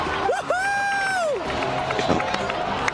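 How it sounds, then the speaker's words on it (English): Cheering crowd at an event in Genshin Impact, the video game, rises in a loud sustained whoop with mixed voices and scattered shouts, fairly close, over a busy crowd noise. "Let's give a huge round of applause to our brave young warrior, Kachina!"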